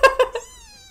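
A kitten gives three short, close meows in quick succession, the last stretching into a longer, wavering cry.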